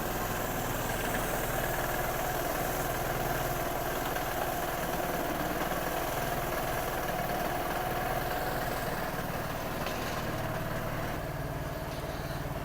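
A Piaggio X8 scooter engine idles quietly and evenly, a steady low drone that runs unbroken and alone without any voices.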